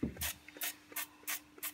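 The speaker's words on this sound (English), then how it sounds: "what you want to do is spray it with Fry Light." Fry Light cooking spray misted over chips before oven baking, five short, even hissing bursts about a third of a second apart, close and fairly quiet.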